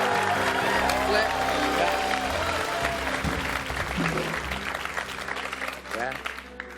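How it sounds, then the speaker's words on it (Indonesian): Studio audience on an Indonesian evening talk show gives lively applause, a continuous crowd clapping layered under loud band music and a host's talk. "berikan tepuk tangan yang meriah buat kalian semuanya"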